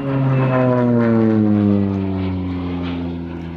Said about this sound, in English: you can see the aircraft is highly maneuverable